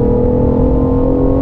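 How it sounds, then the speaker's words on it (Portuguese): A BMW i8 sports car accelerating hard under kickdown on a straight, its engine roaring loud and close with a steady, even drone throughout. "Que ronco, hein? O ronquinho dele parece de 6 cilindros."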